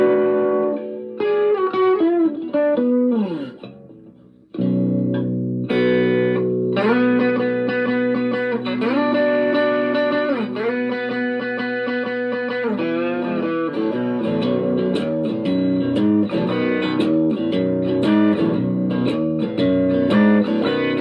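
A distorted baritone electric guitar with a piezo pickup plays sustained low chords and riffs, ringing with long sustain and a touch of reverb.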